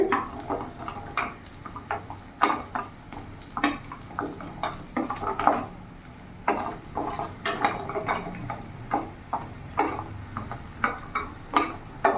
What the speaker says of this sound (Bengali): এবার ওই তেলের মধ্যে এখানে আমি গোটা গোটা বড় বড়িগুলো ভেজে নেব।